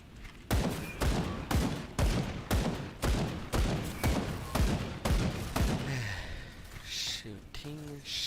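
Rapid bursts of gunfire from the action game Grim Dawn, a loud, steady series of about a dozen evenly spaced shots that fade into softer effects and a voice near the end.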